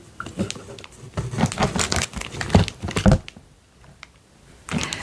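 Large paper envelopes being handled and crinkled at close range, bursts of rustling and crumpling that stop briefly before a final rustle.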